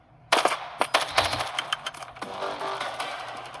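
Rapid bursts of automatic M5 gunfire in a shooter video game, a fast rattling string of shots that blurs into continuous fire, loud and close.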